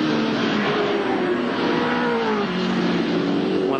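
Alan Grice's touring race car driving through Dunlop Loop at Amaroo in the 1982 AMSCAR series, a loud, steady engine roar with a pitch that slowly falls and then rises again, heard close and continuously.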